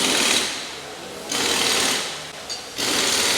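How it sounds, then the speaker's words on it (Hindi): A pneumatic impact gun runs on the wheel nuts of a Mahindra Thar Roxx, giving three loud, close bursts of rapid hammering rattle separated by short dips in level. "ये देखो मशीन से शुरू में इतना ही टाइट करवाओ थोड़ा"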